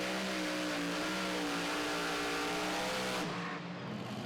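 A super modified pulling tractor roars at full throttle during a tractor pull competition in France, a loud sustained engine scream with steady rising harmonics that drops off abruptly near the end.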